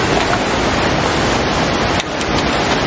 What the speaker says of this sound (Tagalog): Naririnig niyo ba yung agos?